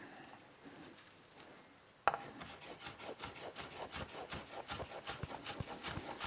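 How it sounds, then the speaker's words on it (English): Knife slicing herbs thinly on a wooden cutting board for an egg salad, a fast run of crisp, evenly spaced chopping taps close up after a sharp first cut, with no talk. "Just slicing it thinly."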